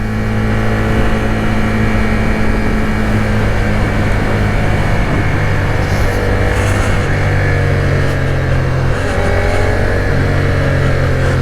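A Suzuki SVF650 Gladius V-twin motorcycle accelerating in second gear, a loud continuous engine drone rising steadily in pitch over several seconds, heard close with wind noise and no talking.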